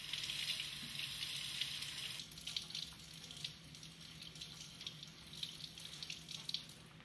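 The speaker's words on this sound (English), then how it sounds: "she washes the sample thoroughly with water" Running water from a tap streams steadily over a metal metallography sample as it is washed clean after etching, a continuous close hiss and splash with no voices.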